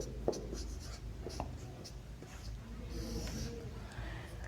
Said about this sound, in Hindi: ज़रा थोड़ा सा नीचे करके लिखता हूँ